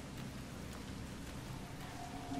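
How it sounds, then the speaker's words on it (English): Steady rain falls in the survival horror game Resident Evil Revelations 2, a continuous even hiss of drops with no break or rhythm, moderately loud and heard alone without talk. "Here comes the rain."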